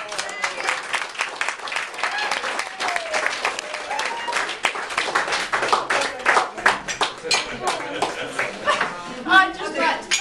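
Sustained applause and clapping from a crowd at a dog agility club gathering, given for the trainer Jackie, dense and steady for about ten seconds with a few louder claps and voices mixed in.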